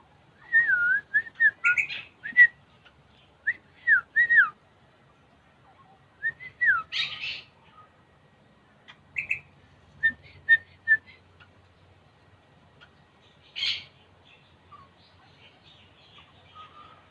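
Tame pet birds give bursts of whistles and chirping calls up close, loud and clear with quiet gaps between the phrases, and a low rumble sits faintly underneath.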